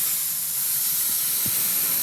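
Compressed air hisses steadily and loudly from a paint spray gun being set to around 18 to 22 pounds of pressure, a continuous broad rush with a faint soft thump partway through.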